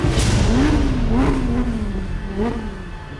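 Italian supercar with a 6.5-litre V12 revs up and holds a rising, sustained engine note, loud and close, with a few swells in pitch across a few seconds.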